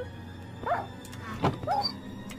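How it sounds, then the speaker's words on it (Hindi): Dog dying sound in the Minecraft video game, a few short whimpering yelps and a thump in quick succession over low game background noise, close and clear with no talking. "ये कुत्ते का आवाज आ रहा है, कुत्ते के मरने का आवाज है।"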